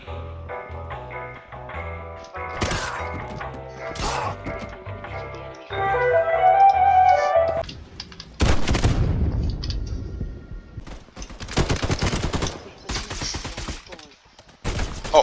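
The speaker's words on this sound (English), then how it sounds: "There's so many explosions right now." Rapid bursts of gunfire and heavy booms fill an online shooter match in a bomb-site game mode, with dense overlapping shots, a loud blast midway and repeated explosive bursts toward the end, close and aggressive.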